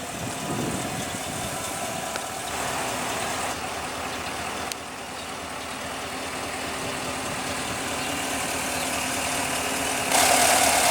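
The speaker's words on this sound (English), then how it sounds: "under the hood here we have a big old traditional V8" A 2016 Cadillac Escalade's 6.2 L naturally aspirated V8 idles steadily under the hood, a close, even rumble with a faint mechanical ticking that stays constant, with no talk over it.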